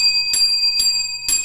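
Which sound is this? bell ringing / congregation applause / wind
bell ringing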